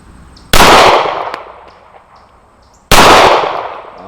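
Two sharp, loud shots from a CZ A01-LD pistol on an outdoor range with moving steel plates, spaced about two seconds apart, each with a ringing decay.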